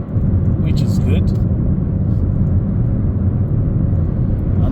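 A car driven at about 45 on a road on a driving test route in Rugby, steady loud engine and tyre rumble throughout, with faint higher hiss early on, no talking.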